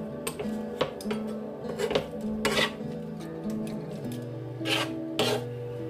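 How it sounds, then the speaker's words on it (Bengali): Egg, flour and mashed potato are mixed together in a bowl, giving repeated scraping, rubbing strokes with occasional clinks over a steady background hum. "ডিম, আটা আর আলুর এই মিক্সচারটাকে কিন্তু ভালো করে এইভাবে মিশিয়ে নিতে হবে।"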